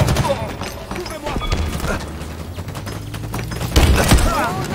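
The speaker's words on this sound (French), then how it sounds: "L'ennemi me tire dessus." Rapid gunfire bursts and booming impacts from enemies in the video game Halo Infinite, a dense volley of shots with a heavy thump near the end, under the player's voice.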